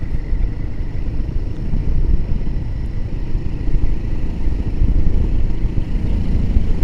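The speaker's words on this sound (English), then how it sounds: "Fifth gear up the hill from 30 miles an hour, that's perfect." A Royal Enfield Himalayan 450 climbing a hill in fifth gear from about 30 mph, its engine a loud, steady low drone with constant road and wind rumble and no voices.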